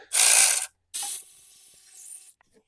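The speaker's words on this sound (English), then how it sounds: "Okay, loosen these V-bands" Ratchet working on small V-band clamps of a Cummins engine during a delete and upgrade job: two bursts of close, dense clicking, the first loud and steady, the second shorter, followed by quieter mechanical rattling.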